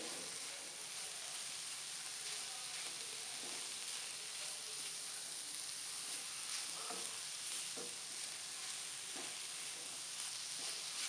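Grated mooli (radish) paratha filling with crushed ajwain cooking in a pan: faint, steady hissing sizzle throughout, with occasional soft stirring scrapes, no speech.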